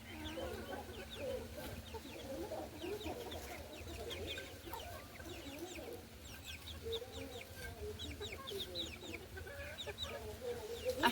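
A hen clucks repeatedly after laying an egg indoors, her calls a steady, fairly faint run of clucks with a low background hum.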